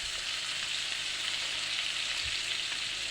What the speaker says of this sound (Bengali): টমেটোটা এপাশ ওপাশ লাল করে ভেজে নিয়েছি।